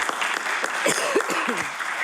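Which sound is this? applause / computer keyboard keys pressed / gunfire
applause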